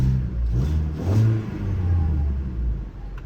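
A car engine revs up in a few short rising pulses, close and fairly loud, settling into a steady hum between bursts.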